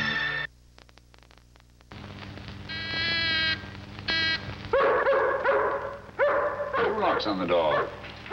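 A dog barks in a series of sharp woofs and yips in the second half, following a quieter stretch of tones and background sound, with voices present nearby.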